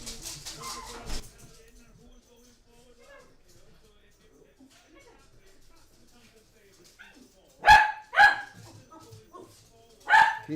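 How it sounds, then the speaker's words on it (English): A female dog barks in sharp loud bursts near the end, in a home during a live watch-along of a British & Irish Lions vs South Africa rugby Test, after a stretch of quieter talk and room noise. "Can you stop her barking?"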